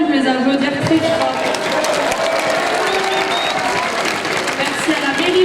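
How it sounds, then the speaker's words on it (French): Loud applause and cheering from a festival crowd at the opening of the Fêtes de la Madeleine 2023, a busy wash of clapping with voices and shouts mixed in throughout. "on peut les applaudir très fort."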